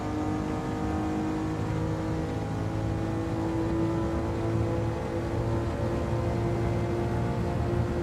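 Engine of the Devil Z, a rusty-liveried old car, driven along the Tokyo Expressway highway in Gran Turismo 7, droning steadily and loud throughout with a sustained whine and no gear breaks or voices.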